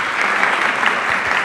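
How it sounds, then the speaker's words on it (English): Loud, steady audience applause fills the space throughout, a dense wash of many hands clapping at once at a televised youth event stage. "Can we have a huge round of applause for both of them?"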